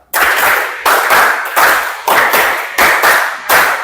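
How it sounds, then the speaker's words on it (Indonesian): A group claps hands together in a classroom counting game, sharp unison bursts of claps repeated in a steady rhythm, about six loud, close volleys with brief pauses between. "tepuk 2, tepuk 3, tepuk 4, tepuk 5, 2 kali tepuk 5"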